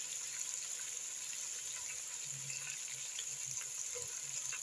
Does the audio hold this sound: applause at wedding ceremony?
no